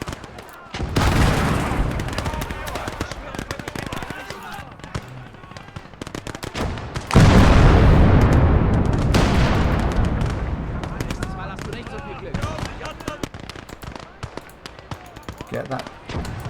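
Artillery shells and gunfire crash through a battle in the strategy game Legion of the Damned, with a big close boom, a rattle of sharp shots, and a voice talking under the din.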